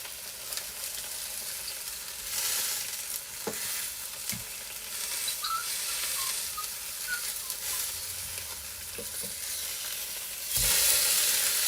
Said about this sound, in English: A nice seared steak.